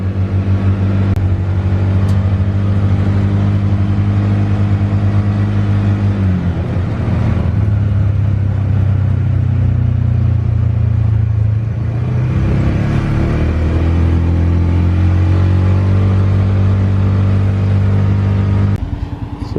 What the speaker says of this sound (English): So Derek's right there on his Can-Am.